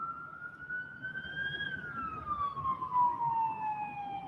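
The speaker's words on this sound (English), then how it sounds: "We got another LAPD coming in hot. He needs to turn that siren off, though." An LAPD police siren wails at a moderate distance near a Los Angeles bridge, its tone rising and then slowly falling, with faint traffic rumble beneath.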